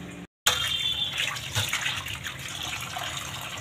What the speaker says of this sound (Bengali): এবার আমি মাছটা আবার ধুয়ে নেব।